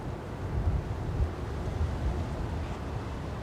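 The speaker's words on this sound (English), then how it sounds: "the wind is just constant at about 20 knots" Strong, constant wind of about 20 knots buffets the microphone at Manchester Airport as a steady low rumble with no talking.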